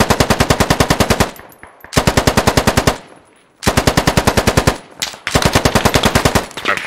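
Automatic gunfire in the tactical shooter game Squad: long, rapid, loud bursts of machine-gun fire separated by brief pauses, close and dominant.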